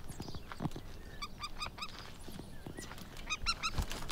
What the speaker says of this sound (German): Wie laut der Adler einfach kreischt